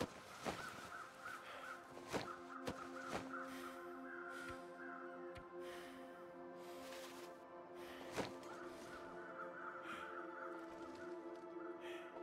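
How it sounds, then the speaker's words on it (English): Several loud crow caws ring out in a survival video game set in a freezing wilderness, sharp calls repeating at irregular intervals over a steady wind-like background and layered game ambience. "Low flying crow is there."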